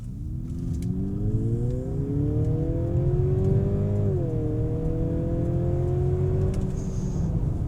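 A Mercedes GLC 350e Coupe plug-in hybrid accelerates from inside the cabin, a steady engine hum and rising whine climbing in pitch, briefly dipping at a gear change, then rising again.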